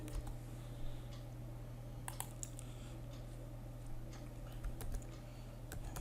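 Python code being typed on a computer keyboard, with scattered soft key clicks and a few sharper taps over a steady low hum in a quiet room.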